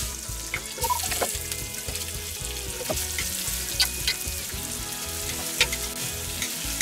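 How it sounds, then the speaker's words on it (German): Vegetables sear in a hot pan with continuous crackling sizzle, punctuated by repeated scraping strokes of stirring at a close, steady pace, no voices. "so wird jetzt nach und nach das Zeug angeschmort, angeschmorgelt und dann kommt es auch wieder raus"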